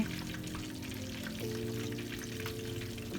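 Fish coated in turmeric fries in a pan with oil, giving a steady, close crackling sizzle that holds throughout with no talking.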